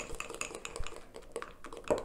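Banana muffin batter stirred in a mug with a utensil: quick, close clinking and scraping taps against the mug in an uneven rhythm, fairly quiet, with a slightly louder knock at the end.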